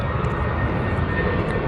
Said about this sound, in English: Let's get the airplane on here.